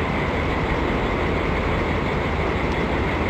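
A 1980s passenger train on Poland's line 202 between Białogard and Runowo Pomorskie, running in Microsoft Train Simulator, makes a continuous loud rumbling roar with steady rolling rail noise and no talking.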